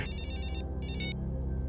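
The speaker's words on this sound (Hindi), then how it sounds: "उन्हीं अपराधियों का फोन है सर" A telephone rings with an incoming call from criminals, two bursts of a rapid trilling electronic ring separated by a short gap, clear and close over a low steady hum.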